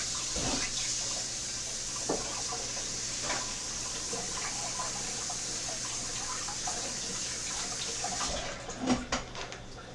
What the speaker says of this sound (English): I'm just going to rinse them briefly in cold water